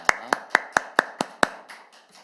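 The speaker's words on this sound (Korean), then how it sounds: "우리 왕신 하나님께 우리 감사와 영광의 박수를 드리도록 하겠습니다." A Korean church congregation gives a short burst of claps at a Sunday service, about seven sharp evenly spaced claps that fade out, with no voices over them.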